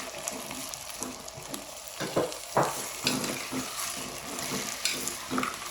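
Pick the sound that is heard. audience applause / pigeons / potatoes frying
potatoes frying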